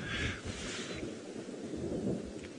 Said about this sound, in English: we can hear all the thunder